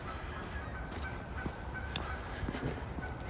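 A single short goose honk rings out near the middle of a brief stretch of steady outdoor ambience beside a misty lake in Regina, with faint other bird sounds around it.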